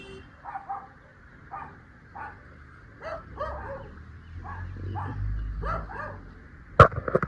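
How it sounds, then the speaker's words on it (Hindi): Neighbours' dogs bark repeatedly in short, spaced yaps and woofs, at moderate distance, with a louder sharp bark near the end. "बेचारे सारा दिन भौंकते रहते हैं हमारे कुत्तों को देख के"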